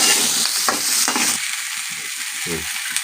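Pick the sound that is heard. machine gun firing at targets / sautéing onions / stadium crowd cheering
sautéing onions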